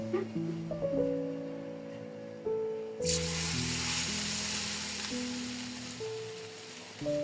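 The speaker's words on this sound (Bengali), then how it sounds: "গুঁড়া তেলের মধ্যে দিয়ে দিব আমাদের ফোড়নটা প্রায় শেষ" Red chili powder and spices hit hot oil as tempering for a thin khichuri with winter vegetables, setting off a sudden, steady sizzle partway through that continues over background music.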